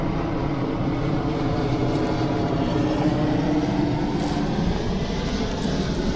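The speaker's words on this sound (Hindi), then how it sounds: "त्याला विमानाचा आवाज पण डोक्यावरशी झाला." A fixed-wing airplane passes overhead near a rural fishing spot, producing a steady, loud engine drone that holds for the whole stretch without any talking.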